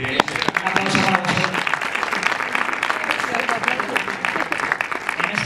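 Audience applause at a gaming convention talk with Spanish dubbing voice actors, steady dense clapping filling the room throughout, with voices talking over it.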